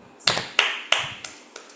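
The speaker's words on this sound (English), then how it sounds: "Clap your hands, everyone, for Gelda." Students in a classroom clapping their hands: five crisp, evenly spaced claps, sharp and close, in a steady rhythm that fades slightly at the end.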